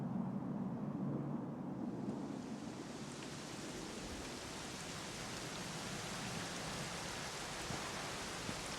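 Steady rain pours down in the video game Dragon Quest XI S, a dense even hiss that fills the whole clip with no pauses or voices.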